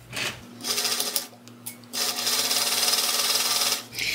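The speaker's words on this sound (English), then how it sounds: "Now take the back crotch seam and put those together and sew that at a 1/2 inch seam allowance." A sewing machine stitches the back crotch seam of a pant sample garment at a half-inch seam allowance: close, loud steady whirring in two runs separated by a short pause.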